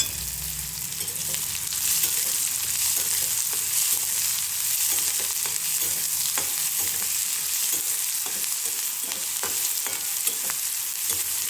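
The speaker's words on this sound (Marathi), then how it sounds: "जिरे मोहरी चांगले तर की ह्याच्यामध्ये कांदा टाकलाय कांदा चांगला भाजून घेऊ अगोदर" Onion frying in hot oil with cumin and mustard seeds, a dense continuous close sizzle with small popping crackles throughout and occasional stirring, no talking.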